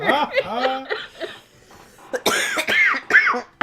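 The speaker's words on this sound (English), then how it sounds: "that's gonna send me into a coughing fit now" A person breaks into a series of harsh coughs mixed with laughing, loud and close, with short pauses between bursts.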